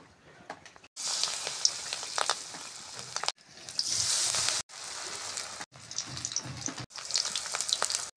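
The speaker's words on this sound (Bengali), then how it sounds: "এভাবে বাক্যচুর পাতাগুলোকে ভেজে নেব" Bak kochu (taro) leaves fry in hot oil: bursts of loud, crackling sizzle, close by, each lasting one to two seconds and broken by short silent cuts.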